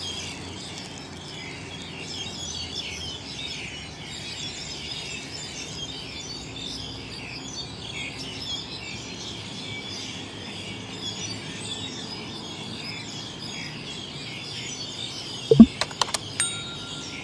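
Faint, steady chirping of many birds in the distance forms a soft background chorus, with a few sharp clicks near the end.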